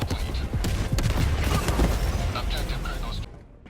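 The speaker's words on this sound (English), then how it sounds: "enemy defenses, such as anti-air or mortar emplacements, can quickly be destroyed with the W.A.S.P launcher" Rockets from the W.A.S.P launcher in Helldivers 2 fire in a rapid volley, a loud cluster of overlapping blasts and whooshing bursts that rumble for about three seconds before dropping away abruptly.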